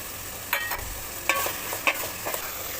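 Cumin and pepper sizzling with eggplant, drumstick and potato pieces in a pan for prawn curry: a close, steady frying hiss broken by a few light scraping stirs, no voices.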